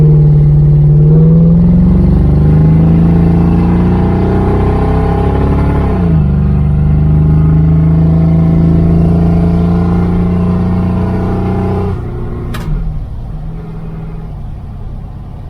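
A 1978 Dodge Aspen R/T pulls away from a stop, its engine loud and close with rising pitch, a dip and shift near six seconds, another climb, then easing off with a faint clatter near the end.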